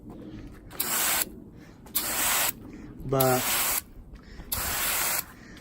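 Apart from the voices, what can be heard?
spraying bed liner coating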